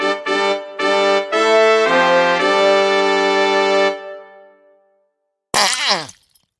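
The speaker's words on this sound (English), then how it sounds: "You want the fart noise, right?" A fart sound effect plays as a string of loud, buzzy, pitched blasts for about four seconds that fade out, followed after a brief silence by a short, raspy burst.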